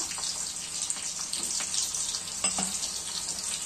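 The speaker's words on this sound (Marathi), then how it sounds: "तेल गरम झाले। आता आपण लसूण टाकून घेऊया 5-6 पाकळ्या। मी जो कांदा केलाय तो टाकूया।" Garlic cloves and onion sizzle in hot oil for a tempering, a close, loud, constant hiss with a few faint clinks of stirring and no talk.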